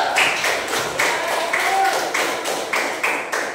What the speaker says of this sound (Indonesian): Baru tepuk tangan dulu untuk kelompok satu.